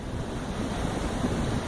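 A soft, steady wash of small waves and ripples lapping against stones at the water's edge, with light wind, close and gentle, no voices.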